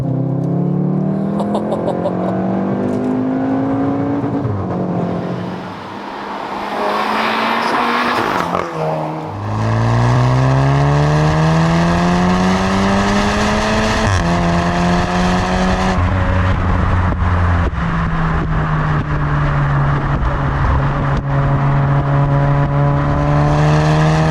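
A 400bhp VW Golf R Estate in sport mode accelerates hard with loud engine revs that rise through the gears, dipping briefly at each shift before climbing again. The sound is close and continuous, with no talk.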